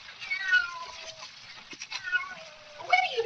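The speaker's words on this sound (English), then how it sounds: "Where do you come from, you stupid cat? Go away." A cat meows in a radio drama, several drawn-out, wavering cries spread across the moment with a louder one near the end, set amid the quiet tension of a mystery scene.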